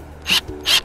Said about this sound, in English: we're gonna take the drill and drill it